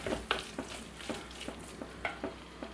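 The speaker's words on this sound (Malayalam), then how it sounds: "എല്ലാം കൂടി ഒന്ന് അതുപോലെ ഒന്ന് മിക്സ് ചെയ്ത് എല്ലാം കൂടി നന്നായിട്ടൊന്ന് റെഡി ആയിട്ട് വന്നോട്ടെ" Masala for crab biryani is stirred and mixed in a pan, a series of distinct scraping strokes recurring roughly every half second over a low sizzle.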